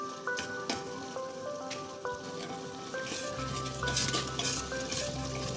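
Ground turmeric, chilli, cumin and coriander powders fry and are stirred in a pan for handi chicken, a close, bright sizzle with scraping strokes over faint melodic background music that swells louder toward the end.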